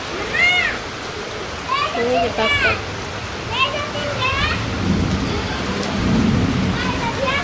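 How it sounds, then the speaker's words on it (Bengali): Heavy rain pours down in a steady, loud hiss while thunder rumbles, and voices talk over the downpour throughout. "অনেক সুন্দর বৃষ্টি নামছে"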